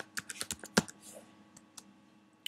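Keystrokes on a computer keyboard spelling out a folder name: a quick burst of close, crisp clicks in the first second, then a few sparse taps against a quiet room hum.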